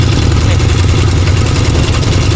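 A walking tractor engine runs steadily in a rubber plantation, a loud, close, continuous low chugging drone with no pauses throughout.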